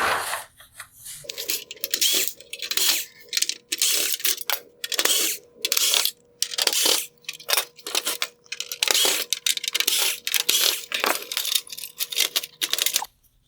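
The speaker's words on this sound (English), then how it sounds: "Next, I'll remove the T10 Torx screws holding on this inner piece." T10 Torx screws being backed out of an inner piece of a 2017-2021 Alfa Romeo Stelvio OEM xenon headlight, a close sequence of clicking, ratcheting driver turns in repeated bursts with brief pauses between, no talking.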